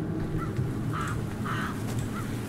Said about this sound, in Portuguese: O que é que eu estou a ouvir, corvos?